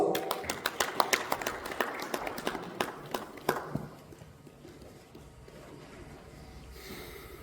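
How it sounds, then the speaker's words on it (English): Audience at an education awards ceremony in Dubai gives scattered applause: crisp, separate claps from a modest crowd for a few seconds, thinning out and dying away into quiet room tone. "Big round of applause."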